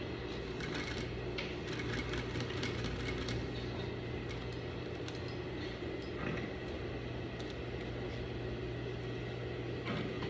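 A sewing machine back stitching fabric at the corner of an unlined slit runs with a continuous, even mechanical whir, steady and fairly faint, with no talking.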